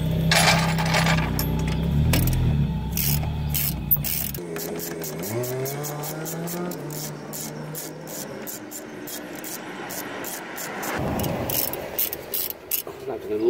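A socket ratchet being handled during a front brake pad and rotor job on a 2014 Acura MDX: metallic clinks of sockets, then a run of quick ratcheting clicks close by, with some workshop noise around it.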